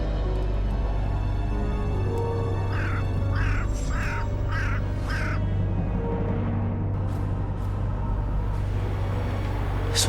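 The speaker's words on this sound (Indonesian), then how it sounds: "Suara burung gagak." A series of about five crow caws, a sound read as a bad omen, rings out in quick succession over a steady low hum and background noise, followed later by a couple of fainter calls.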